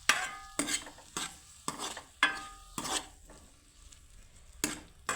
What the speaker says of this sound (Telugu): ముక్కలు చేసుకున్న టమాటాలను అయితే ఇలా వేపాలి.